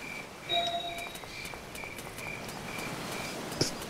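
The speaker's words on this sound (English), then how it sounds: "That's where you just put cricket noises" Cricket chirping used as a sound effect: faint, repeated high thin chirps in short bursts over a soft hiss, with a small click near the end.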